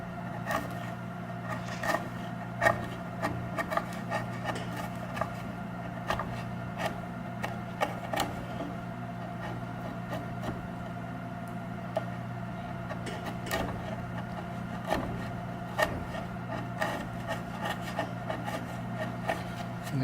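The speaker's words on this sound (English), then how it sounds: "the chisel will cut across the grain quite nicely" A steel chisel pushed by hand cuts across the grain of sawhorse lumber, giving a series of scraping, crunching chip-breaking ticks at irregular intervals over a steady low background hum.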